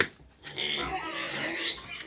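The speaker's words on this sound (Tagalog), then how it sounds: "Sandali lang mga biik." Piglets on a pig farm grunt and oink in a close, short burst of overlapping squeals and snorts, loud and continuous.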